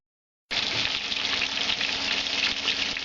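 Cleaned fish from a lake catch starts frying abruptly and then sizzles steadily and loudly in hot oil, with no talking.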